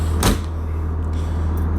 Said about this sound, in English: Got a solid pocket door separating the bedroom from the bathroom.